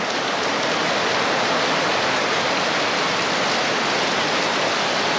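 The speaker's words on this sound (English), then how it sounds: "It's raining so hard my gutters couldn't keep up even if they wanted to." Heavy rain from a major storm pours down in a dense, unbroken hiss, loud and steady throughout with no pauses.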